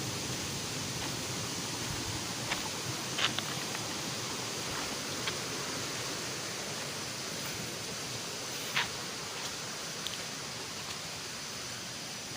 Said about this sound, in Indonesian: Kadang aliran airnya juga berbelok ya ke arah jalur ini